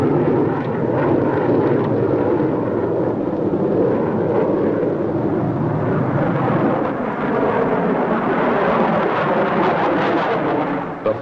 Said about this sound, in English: Turbojet engines used in assisting takeoffs of our giant bombers are studied